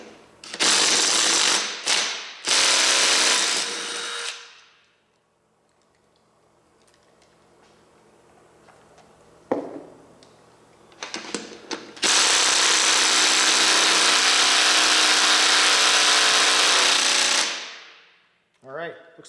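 Power tools loosen the bolts of the main hub body on a Roxor. Loud, sustained bursts of impact-style hammering come up close, broken by quieter pauses filled with clinks and handling noise.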